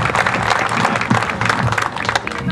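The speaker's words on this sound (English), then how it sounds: "Yes, let's give them a round of applause." Crowd applause at an outdoor Veterans Day ceremony in The Woodlands, Texas, honoring the Patriot Guard: steady, dense clapping from many hands, close and loud, with faint voices mixed underneath.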